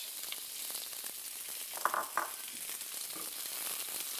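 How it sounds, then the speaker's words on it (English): Mustard seeds crackle and shredded red cabbage fries in oil in a wide flat non-stick pan, a loud continuous sizzle with a few sharper pops and stirring scrapes near the middle. "Let the mustard seeds crack, and we add shredded red cabbage."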